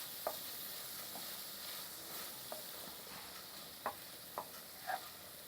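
Paneer frying in a small amount of oil for palak paneer bhurji, a quiet steady sizzle broken by several soft spatula scrapes and stirring taps, close and without talk.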